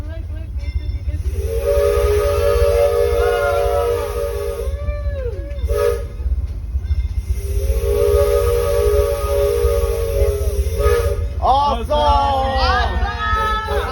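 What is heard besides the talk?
steam whistle of Disneyland Fred Gurley No.3 steam train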